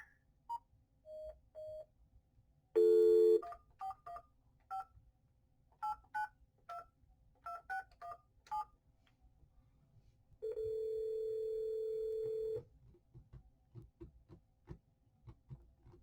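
Telephone call setup with a string of short touch-tone dialing beeps, a loud tone burst, and then a long steady ringback tone, all quiet and without talk.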